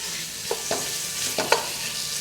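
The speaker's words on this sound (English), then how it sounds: "I will saute my meat a little bit to get a little bit of color" Ground meat sautéing in a pan for a chiles en nogada filling: a steady close sizzle with a few soft scraping stirs, no talk.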